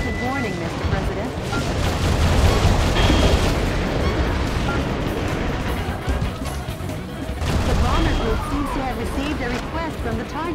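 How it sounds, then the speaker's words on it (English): A Navy cruiser's long-range missile barrage hits in Metal Wolf Chaos XD: loud, sustained rumbling explosions and rapid gunfire surge in two heavy waves, with game voices talking over the din. "The Navy cruiser will fire powerful long-range missiles."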